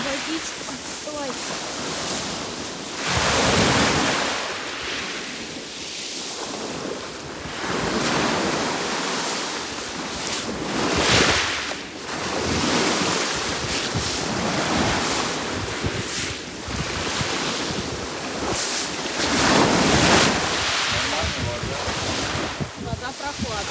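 Sea waves wash onto a pebbly shore near Batumi on Georgia's Black Sea coast, surging and receding in repeated loud swells, with wind buffeting the microphone and occasional voices nearby.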